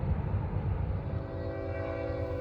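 BNSF westbound grain train led by locomotive 6800, a loud steady rumble with sustained tonal horn or engine drone running throughout, no voices.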